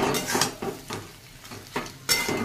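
Mola fish dry-frying with onion, chilli and garlic in a pan, a soft sizzle under a few scraping and clinking strokes of a spatula against metal, close and without talk.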